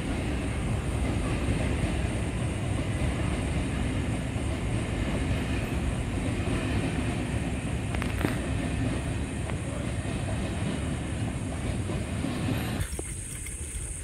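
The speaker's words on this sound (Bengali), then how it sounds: "ট্রেন আসছে শিয়ালদার দিক থেকে" An empty suburban train bound for Bongaon rumbles past close by with a sustained, loud roar of wheels and carriages. It cuts off abruptly near the end.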